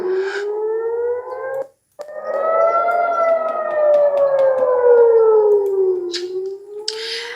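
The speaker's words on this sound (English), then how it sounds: "you're listening to sirens blasting in Jerusalem yesterday after Israel's military intercepted a missile" Air-raid sirens wail in Jerusalem after a missile interception, a loud rising and falling tone that drops out briefly and then resumes with sustained, sweeping pitch.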